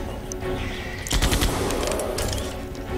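Gunfire in a Jurassic Park video game: a sharp burst of rapid shots about a third of the way in, loud and close, over a steady background hum with faint chirping.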